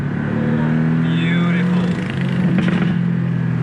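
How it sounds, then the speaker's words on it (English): A Porsche 718 Boxster S engine hums steadily at a low pitch, with a brief rise in revs partway through and faint background noise. "Beautiful engine sound."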